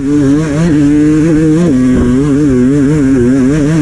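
An enduro motorcycle engine revs hard on Hawkstone hill during a woods race, a loud, close, continuous buzzing drone that rises and wavers in pitch with the throttle, with a brief dip near the middle.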